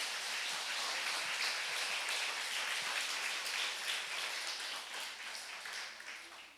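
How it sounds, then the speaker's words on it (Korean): A church congregation at a Sunday worship service claps together, a soft, even wash of many hands heard from a distance, holding steady and then tapering slightly at the end. "우리 박수 한번 주시기 바랍니다"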